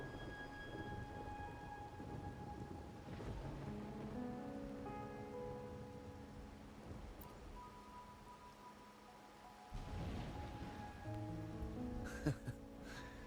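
Steady rain pours at night in the video game Wuthering Waves, a continuous hiss with rolling thunder and soft musical tones beneath, brief louder bursts near the end.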